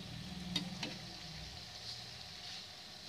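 Rice flour chips fry in hot oil, giving a steady, soft, hissing sizzle close by, with a couple of small pops near the start.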